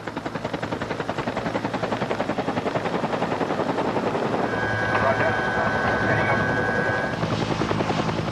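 A helicopter flies overhead during rappelling training by an emergency medical team in Papua New Guinea, its steady rotor chop loud and continuous throughout, with a brief voice underneath.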